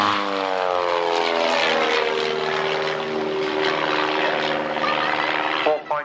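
A warbird propeller aircraft at an airshow performing a stall turn into a spin, a loud, steady droning engine close by with a shifting pitch, cutting off at the end.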